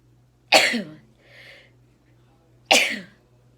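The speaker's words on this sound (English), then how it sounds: "I'm going to sneeze" Two sharp sneezes, separated by a pause of about two seconds, with a soft breathy sound in between; close and fairly loud.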